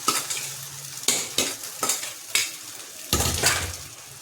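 Rice being stir-fried in a pan, with a spatula scraping and tossing it at a steady rhythm of sharp clanks over a soft continuous sizzle, close and clear with no talking.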